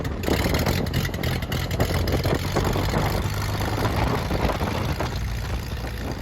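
A light aircraft engine idles in a run-up bay while the cylinder heads warm, a steady, loud low rumble with a pulsing throb and persistent propeller and wind noise, heard from inside the cockpit.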